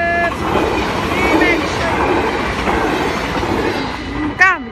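A train passing through Nieuwstadt, a loud continuous rumble of wagons close by, with a horn-like toot near the end and people talking underneath.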